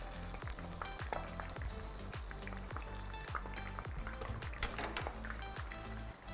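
Cubes of paneer 65 fry in hot oil with a steady, loud sizzle and bubbling that runs without a break. Faint clinks of a utensil against the pan come and go underneath.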